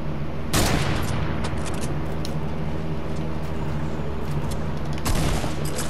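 Gunfire in Fortnite, with two sharp, loud bursts of shots about four seconds apart over a steady rumbling game background, close and punchy, no talking.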